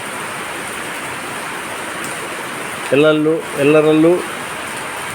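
Steady rain from a low-pressure system falling in Mangaluru: a constant, loud hiss throughout. Someone speaks briefly over it near the end.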